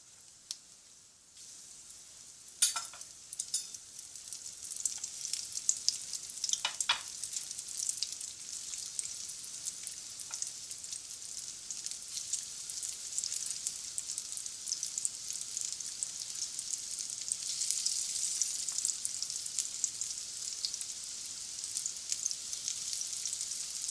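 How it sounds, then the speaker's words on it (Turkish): Steady hot-oil sizzling of meatless Turkish köfte frying, a dense crackling hiss with a few sharper pops and spatters, close and continuous with no talking. "yağ koyduğumuz kızgın yağda güzelce kızartalım"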